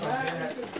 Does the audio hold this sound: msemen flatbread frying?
no